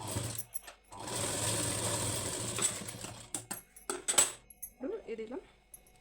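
A sewing machine stitching a blouse neck runs in a fast mechanical whir, then stops and gives way to a few clicks and metallic taps before a quiet voice speaks near the end.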